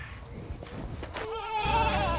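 Goats being fed grass and hay at lunchtime bleat, with one wavering, drawn-out bleat rising clearly near the end above low background noise and scattered knocks.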